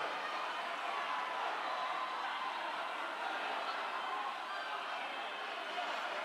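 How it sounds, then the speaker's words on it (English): A large crowd cheers at an indoor rowing national championship race, a continuous, even roar of many voices that holds at the same level throughout, moderately distant and with no single voice standing out. "Wow, listen to the crowd."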